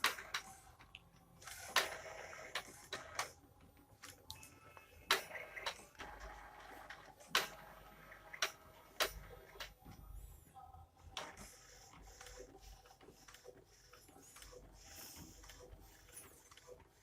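An Epson inkjet printer, L805/L810-type, drawing a homemade PVC print tray inside, with mechanical clicks, ticks and whirring motor runs in irregular bursts, nearby and moderately quiet, no speech.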